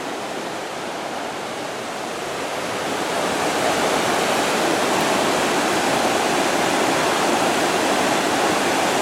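Loud continuous rush of river water at a river crossing near Owl Head Mountain, broadband and steady, swelling slightly as it goes on, with no voices.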